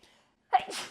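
A single sharp sneeze bursts out close up after a brief quiet intake of breath.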